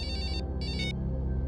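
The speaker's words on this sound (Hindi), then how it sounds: "उन्हीं अपराधियों का फोन है सर।" Telephone ringing in a police crime drama, two quick bursts of an electronic ring over a low steady hum, close and clear with no talk.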